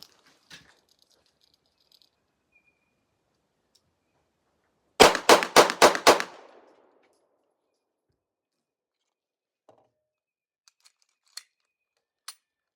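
Glock 45 pistol fired at a shooting range, five rapid loud shots in a quick burst, with a few faint clicks and taps before and after.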